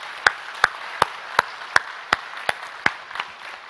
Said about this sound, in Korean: 여러분, 이런 예수님께 우리 한번 박수로 영광 한번 돌렸으면 좋겠어요.